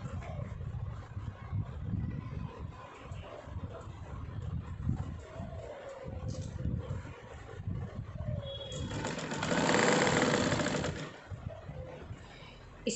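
Someone talks over quiet background noise, then a sewing machine runs steadily for about two seconds, stitching scraps of fabric together, and stops.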